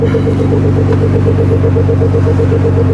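A Nissan GT-R R35 engine idles steadily after its first start in five months, a loud, close, even rumble with a regular pulsing throb and no talking.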